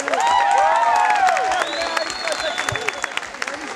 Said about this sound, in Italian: E noi un grande applauso a Bisciano.